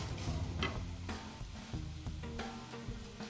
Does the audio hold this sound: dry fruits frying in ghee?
yes